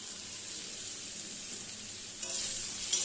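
Chopped onion hitting hot mustard oil with browned potatoes, a steady close sizzle throughout, with a brief stirring clatter near the end and no talking.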